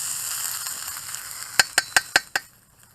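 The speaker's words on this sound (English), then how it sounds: "Don't want to overcook it, the onions, I don't want them burning." Onions frying in a pan for chilli chicken wings give a steady, close sizzle, then about five sharp metallic clinks of a utensil against the pan in quick succession before the sound fades.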